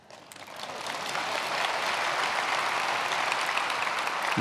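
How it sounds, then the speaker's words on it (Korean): A church congregation applauds during a Wednesday prayer service, a dense wash of many hands that swells in the first second and then holds steady and fairly soft, with no voices over it. "또 이거 잘 외우고 박수 받기는 처음입니다."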